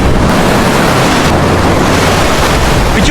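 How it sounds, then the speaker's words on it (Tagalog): Ocean surf washes over a Philippine beach in a continuous loud roar, mixed with wind buffeting the microphone, with no pauses across the whole stretch. "Uy! Ayun ang alon, no?"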